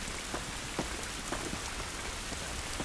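Steady rain falling outdoors in The Last of Us video game, a dense continuous hiss of drops striking surfaces with occasional sharper splats, even and close with no talking.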